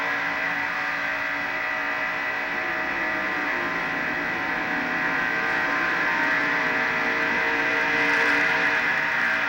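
From inside a NASCAR stock car at Daytona during the 1989 Pepsi 400, a loud, steady engine roar holds at high revs throughout, with no lifting.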